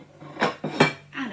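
Two dinner plates are handled and set down in a kitchen while doughnuts are being made, with three quick clinks of crockery that sound close and clear.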